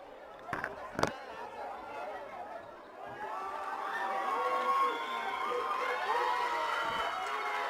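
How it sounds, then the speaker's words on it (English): Crowd noise at a park rugby festival match, a broad continuous swell of voices and cheering rising after a few sharp bangs near the start and holding steady, with mixed chatter throughout. "I'll leave you with some sounds from the crowd in the meantime"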